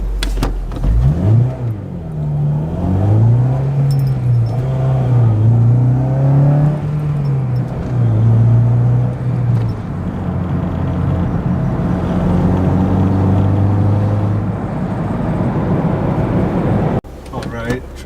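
A Honda Civic Si pulls hard under acceleration, its engine note climbing through gears with a clear rise, dip and rise again, heard from inside the car at close range while the driver talks over it.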